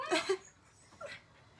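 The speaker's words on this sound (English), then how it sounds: "I'm gonna have to push my dogs out the way because they don't leave me alone, and that's them barking" A dog gives a couple of short, soft yips and whimpering barks close by, with brief pauses between them.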